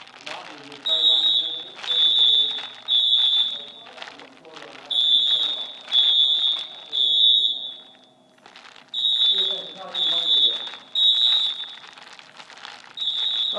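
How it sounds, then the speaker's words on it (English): Edwards EST fire alarm sounding in repeated shrill, high-pitched bursts in a steady on-off rhythm indoors, with people talking quietly underneath and a short pause midway. "they're right by that fire alarm"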